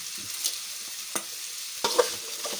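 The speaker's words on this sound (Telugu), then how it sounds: "మొత్తం ఆయిల్ మొత్తం అలా కింద నుంచి పై వరకు తిప్పుకొని ఫ్రై చేసుకోవాలి" Vegetables for fried rice are stir-fried in oil on a high flame, a soft, low sizzle broken by a few sharp spatula scrapes and tosses, close and fairly quiet.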